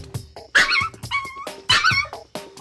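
A small dog yaps at the paper boy in short bursts, two quick sharp barks, a pause, then two more, close and loud with some whiny yips between.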